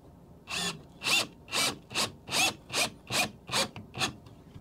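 A Bosch installation driver runs a screw into wood in eight short, evenly spaced bursts of whirring and grinding, loud and close, with brief quiet gaps between pulses.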